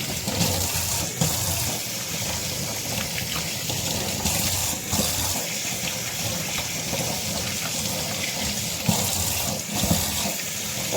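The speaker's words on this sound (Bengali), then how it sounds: "তাহলে মাংসগুলো ধুয়ে নিই" Tap water runs steadily and loudly into a sink while meat is washed under it, a close, continuous broadband splash broken by occasional brief shifts as the pieces are moved about, with no voices.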